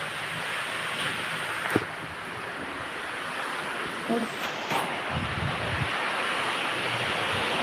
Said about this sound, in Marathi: किती वारा जोरात आहे